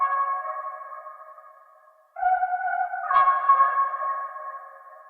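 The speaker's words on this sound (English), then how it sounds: "I added this vocal chop, which sounds like this originally" Vocal chop sample from the Fragments multi-kit: a smooth, breathy sustained tone that fades, then shifts to a new pitch after a brief dropout and holds with a slight wavering, echoey quality; alone, with no voices.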